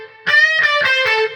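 Four distorted electric guitar notes from a solo, played in quick succession, loud and close, with bright sustained overtones and no talking.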